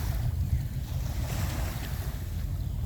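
Waves washing onto a shore at low tide, a steady rushing wash with wind noise over the microphone and no talking.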